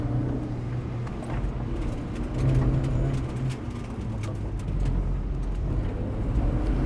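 A car revving and accelerating during a drift session, a steady loud engine roar with a continuous rumble and small swells in power, heard from nearby.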